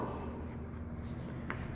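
Marker or chalk rubbing across a board during a maths lesson on ratio and proportion, a brief close scratching stroke ending in a sharp tap, heard alone without speech.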